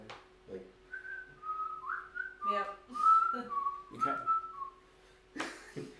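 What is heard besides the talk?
person whistling while walking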